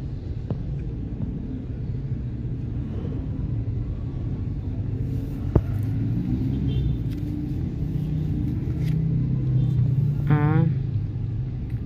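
Busy road traffic near a memorial cemetery rumbles steadily and low throughout, with passing vehicles, a sharp knock midway and a brief chirp near the end, while people talk now and then.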